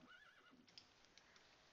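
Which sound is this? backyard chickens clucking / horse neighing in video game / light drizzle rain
horse neighing in video game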